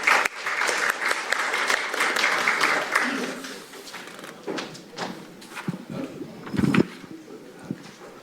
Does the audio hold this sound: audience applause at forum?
yes